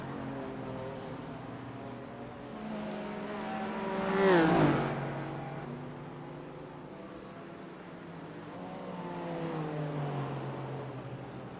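GT4 race cars lapping the Charlotte Roval in a racing video game, engines humming steadily with one car sweeping close past in a loud whooshing surge midway, then the drone settling back.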